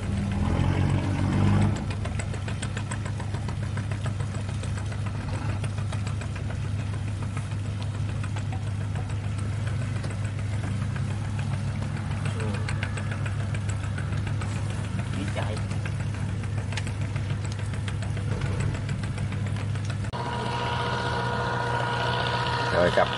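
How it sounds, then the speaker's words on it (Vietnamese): Diesel engine of a crab-net fishing boat coming into harbor chugs with a steady low drone and knocking throb throughout, continuous and fairly close, with people talking over it. "ghe lưới ghẹ họ chạy tiếng máy nổ tới đây còn nghe là đang chạy vô"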